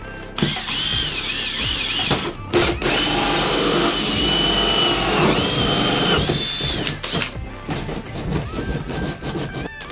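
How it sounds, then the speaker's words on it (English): Power drill boring into a water tank mounted under a camper van, the motor whining loudly and steadily for most of the stretch, with brief pauses and restarts near the middle and end. "So let's get this drilled in to the tank."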